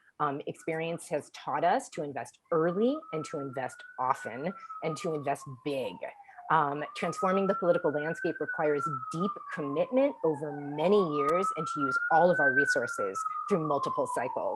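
A New York City siren wails in the background, rising and falling repeatedly beneath a man's continuous speech.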